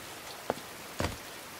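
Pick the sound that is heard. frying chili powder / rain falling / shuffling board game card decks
rain falling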